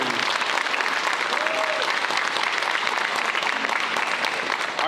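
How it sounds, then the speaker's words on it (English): Sustained audience applause fills a high school signing day ceremony, a dense, steady wash of many hands clapping at an even level throughout. "let's give her one more round of applause."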